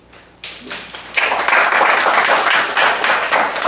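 An audience breaks into applause at a formal gathering, the clapping starting sparse and quickly swelling into a dense, sustained wash of hands that stays fairly loud and close throughout.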